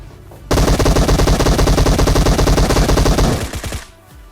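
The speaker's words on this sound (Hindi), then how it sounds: "मैं बंदे को गोलियां मार रहा हूँ और उसके आर पार निकल जा रही हैं" Sustained automatic gunfire from PUBG rattles in one loud, rapid burst lasting about three seconds, then cuts off abruptly into quiet.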